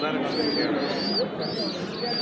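Pigeons coo in soft, repeated rising calls at a busy pigeon market in Lauhati, heard close and steady beneath the constant chatter of traders and buyers.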